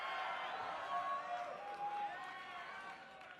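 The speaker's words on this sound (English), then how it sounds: "can you guys cheer for Teemo too, please?" An audience at a live League of Legends event cheering and whooping, a sustained crowd roar with scattered high shouts that eases off toward the end.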